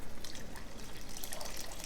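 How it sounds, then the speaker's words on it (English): Water pouring into a pot of simmering shrimp shell stock, a brief, faint, steady splashing trickle close by with no talk. "We depleted the water level pretty good, so let's add back."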